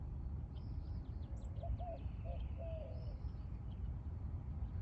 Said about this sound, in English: hear an owl.